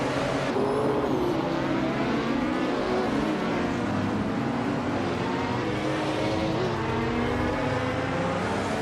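Race car engines from a racing video game, with a 1996 Toyota Supra GT car among GT500 machines, droning loudly and steadily throughout, several engines layered with shifting pitch and no voices.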